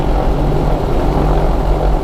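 A Diamond DA42 Twinstar twin-engine airplane taxiing on the ground, its engines giving a steady, loud, continuous drone with a low hum throughout and no pauses.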